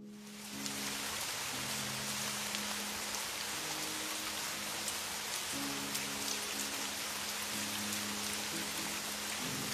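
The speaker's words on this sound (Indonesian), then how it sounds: "Hujan, Mas." Steady rain pours down in a dense, even hiss of drops on surfaces before dawn, continuous and fairly loud, with a low hum running beneath it.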